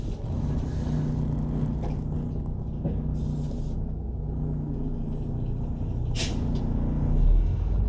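A 2001 MCI coach bus drives along a country road, its diesel engine a steady low rumble with a brief hiss of air brakes partway through, no talking.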